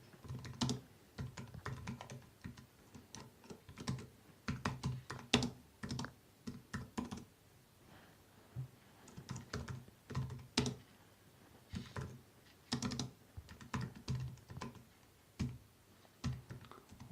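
Keyboard typing on a computer while coding a Java program: bursts of rapid key clicks with short pauses between runs, close and fairly quiet, with no voices.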